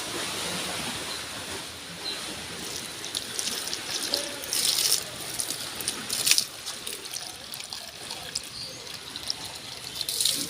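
Water running and trickling as it is poured out for a thirsty animal to drink, a steady hiss of flow with splashy bursts, fairly faint, with no voices.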